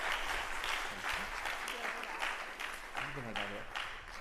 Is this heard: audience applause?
yes